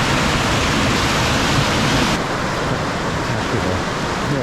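A river in Whistler rushes along on a rainy day, a loud, steady roar of flowing water heard close, easing slightly partway through, with no talk.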